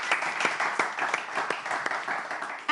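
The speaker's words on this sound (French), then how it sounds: "On applaudit." An audience applauds a jury member being introduced at an event in Togo: a short burst of close, dense clapping from a crowd, fairly even, lasting a few seconds.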